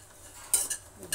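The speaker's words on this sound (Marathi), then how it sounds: "असं छान 3-4 मिनटं याला छान भाजून घ्यायचं" Oats are dry-roasted in a pan and stirred with a metal spoon, a quiet scrape followed by two brief louder scraping strokes.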